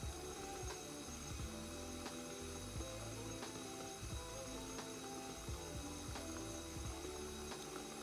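An electric stand mixer beats sponge pudding batter as eggs are added one at a time, giving a steady mechanical whirring hum with faint rhythmic clicks of the beater throughout, with no voices.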